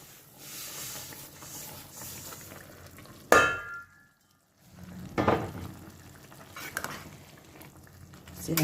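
A spoon stirs vegetable semiya upma (vermicelli with vegetables) in a pan, soft scraping and sizzling with a sharp clatter, a brief near-silent gap, then renewed stirring scrapes and hiss.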